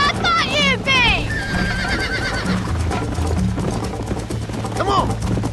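A horse in the Red Dead Redemption video game whinnies loudly several times over a rhythmic gallop of hooves, with a voice talking throughout.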